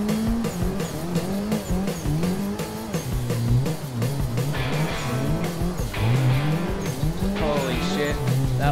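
A car drifts around a drift track in the Assetto Corsa racing game, its engine revving hard and rising and falling in pitch with throttle feathering while tires squeal in long loud bursts.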